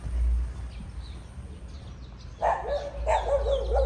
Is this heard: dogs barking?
yes